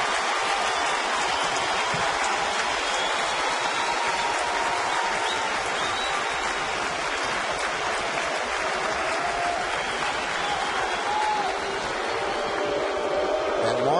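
A baseball stadium crowd of about 46,599 at a Cleveland at New York game rises into a loud, steady roar and cheering, filling the whole stretch as a dense wash of noise.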